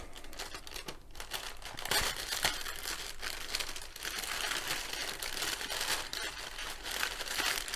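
Crinkling and tearing of a grey plastic mailing bag being opened close by, holding diamond painting kits; steady rustling and crumpling with sharper rips throughout, no talking.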